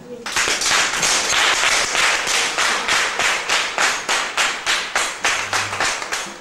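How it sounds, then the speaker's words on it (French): A crowd of supporters at a Benin NGO gathering applauds steadily, a dense, loud wash of clapping that keeps up throughout and settles into a rhythmic, pulsing cheer toward the end. "Quand on est content, qu'est-ce qu'on fait? On acclame. On acclame."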